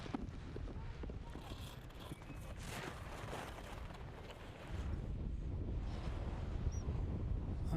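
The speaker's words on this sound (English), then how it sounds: "That wind is really strong." Strong wind blows across a ski slope during a para alpine giant slalom race, a constant broadband rush and buffeting on the microphone that swells louder toward the end.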